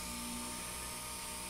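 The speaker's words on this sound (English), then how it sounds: "always keep that sander moving to prevent any heat buildup underneath it." Power sander running at very low speed on a plastic kayak hull during a patch-panel repair, a steady, high whirring whine with no pauses, heard close up and alone.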